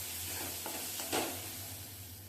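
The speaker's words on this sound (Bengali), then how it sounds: "দেওয়ার পর মশলাটাকে আবারও ভেজে নিতে হবে" Masala with ginger-garlic paste frying in a pan after onion and tomato, a faint low sizzle with a couple of soft stirring scrapes over a quiet background hum.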